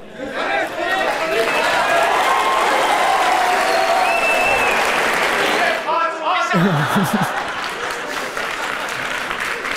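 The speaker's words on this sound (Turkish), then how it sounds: "Ne zamanki adam pizza ısmarlayacağını söyledi, herkes alkışlamaya başladı." An audience in a hall breaks into sustained, loud applause and cheering that fills the room, with scattered voices and chuckles mixed into the clapping.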